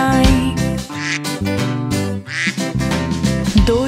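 A mother duck's repeated 'quack quack' sung by a voice imitating the call in a Hindi children's rhyme, four quacks in a row carried over a bouncy, loud musical backing.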